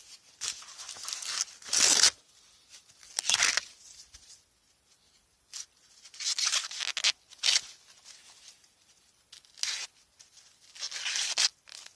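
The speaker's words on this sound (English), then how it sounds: "You just bend it down, twist it, and if you peel off," Sweetcorn husk is peeled back off a freshly picked cob in the garden, giving several separate close bursts of crisp tearing and rustling with quiet pauses in between.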